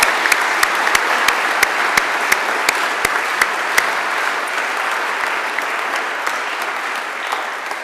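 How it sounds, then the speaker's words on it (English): A steady round of applause from an Episcopal Academy audience at an award presentation, dense continuous clapping with a few sharp, distinct claps standing out near the front, holding evenly throughout. "Let's stop there and give her a round of applause for that,"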